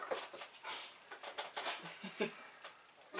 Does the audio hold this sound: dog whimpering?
yes